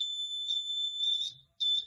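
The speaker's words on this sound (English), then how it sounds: "you get a warning signal by this buzzer" An electronic warning buzzer on a museum loop-and-wire skill game sounds as a loud, steady high-pitched tone, cuts out briefly, then sounds again, with no talking.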